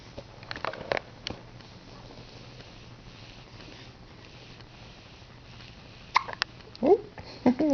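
A young girl hiccups a few times near the end, short sharp catches following a quiet stretch with faint background hum, with brief adult talk and soft sounds before them.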